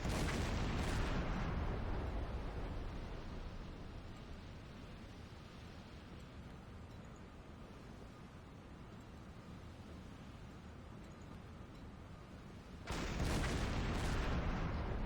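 Small arms fire exchanged at a ship during a World War II Atlantic naval battle in Silent Hunter 5, a dense, continuous rumble of shots and booms that swells loud at the start and again near the end.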